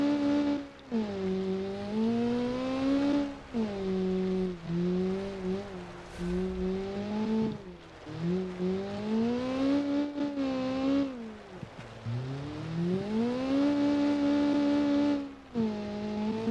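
A Group B rally car in a racing video game, its boosted engine droning loud and steady, pitch climbing and dropping through repeated gear changes and revs, with no talking over it.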